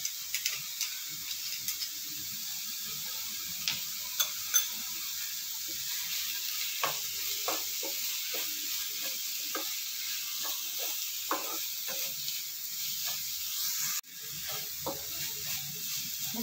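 Ginger garlic paste sizzles steadily in a pan for a prawn and capsicum masala curry, with scattered ticks and scrapes from stirring over a constant hiss and one brief dip near the end.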